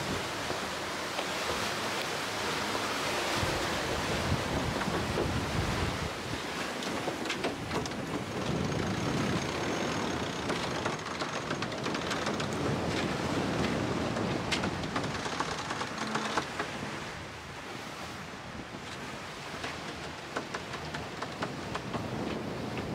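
Continuous broadband rush of sea waves and wind on a sailboat under sail in rolling seas, steady and fairly loud throughout with surging swells and no talking.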